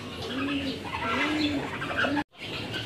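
Repeated soft, rising-falling pigeon coos, three in a row, close by, over a background of bird chatter at a horse park before a brief cutoff.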